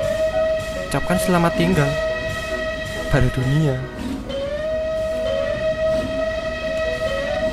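Locomotive horn in the Trainz 2009 rail simulator sounds in long sustained tones over steady engine rumble, with someone talking over and between the blasts.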